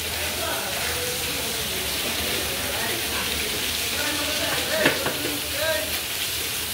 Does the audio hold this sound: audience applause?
no